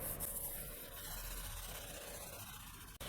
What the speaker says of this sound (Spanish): Le agrego el WD-40. Hace una mancha, así que le agrego un poquito más. Y voy a usar la esponja.